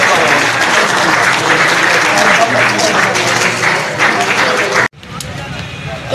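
Loud, dense audience applause fills a Lahore hall as two guests are called to the stage, steady clapping that cuts off abruptly near the end before resuming more faintly.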